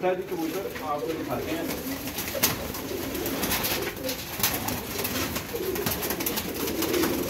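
Pigeons coo in low, repeated murmurs, with people talking over them throughout.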